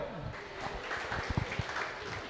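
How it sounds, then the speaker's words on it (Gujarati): Students in a classroom give a short, fairly quiet round of clapping, a few sharper claps standing out, with low voices murmuring underneath. "તાળીઓ"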